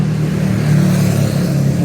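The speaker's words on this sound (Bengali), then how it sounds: "অনেক শব্দ হচ্ছে গাড়ির, বিশেষ করে মোটরসাইকেলগুলা অনেক শব্দ করতেছে।" Loud road traffic in Malaysia, a close steady engine drone with a low rumbling hum and no voices.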